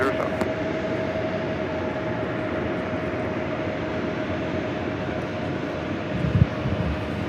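At LAX, an airliner taking off from runway 19 roars as a steady, broad engine rumble heard from a distance, with faint radio chatter and voices underneath.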